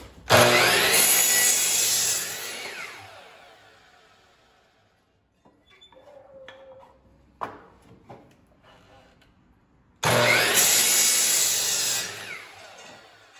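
Wood pieces for a base being cut with a power saw: two loud sustained cutting bursts separated by a quieter stretch of handling clicks and knocks.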